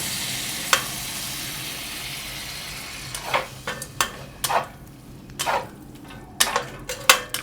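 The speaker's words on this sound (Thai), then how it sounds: "เราก็เอาไก่ที่หั่นไว้ลงผัดนะคะ" Chicken pieces stir-frying in a pan with little oil, a soft low sizzle broken by sharp scraping and clinking strokes of a utensil against the pan, sparse at first and coming in quick irregular bursts later.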